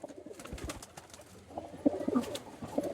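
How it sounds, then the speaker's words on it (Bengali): Pigeons of Omani and Pakistani lines coo in low, throaty bursts from several birds close by, the soft rolling calls getting louder and more frequent toward the end, with a faint ambient hum underneath. "ওমান পাকিস্তানি লাইন সব রকমই পায়রা রয়েছে দাদার কাছে"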